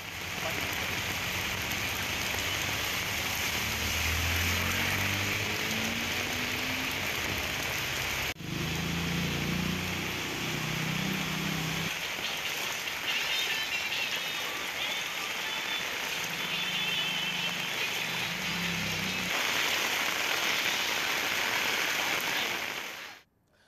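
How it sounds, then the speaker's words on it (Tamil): Heavy monsoon-style downpour over a city street area where water is pooling, a steady dense hiss of rain on surfaces lasting throughout at close range, with faint low traffic rumble underneath and no voices. "பதினைந்து நிமிடத்தில் 4 சென்டிமீட்டருக்கு மேலாக பெய்த கனமழையின் காரணமாகவும்"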